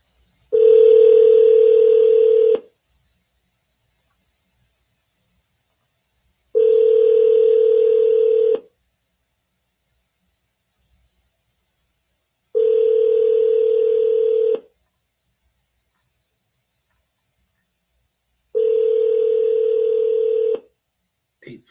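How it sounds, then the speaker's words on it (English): A telephone ringback tone repeating four times, each ring about two seconds long with roughly four seconds of silence between, steady and clear, with no one talking. "Let's call it one more time."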